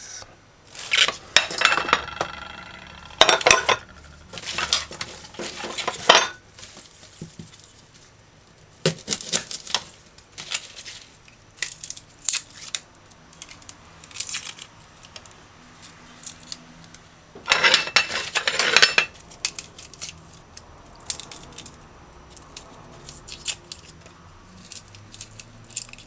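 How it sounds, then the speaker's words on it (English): A knife slices and dices half a chayote (chocha) on a cutting board for a Jamaican conch okra brown stew. Bursts of quick, rhythmic chopping and tapping come close up and loud, separated by quieter pauses. "And half of a chocha, slice and dice."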